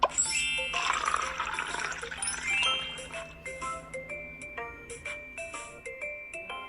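Vinegar is poured into a beaker of hot water for a Christmas kids' science activity: a steady liquid splash for a couple of seconds, then light tinkling, chiming tones ring out over quiet background.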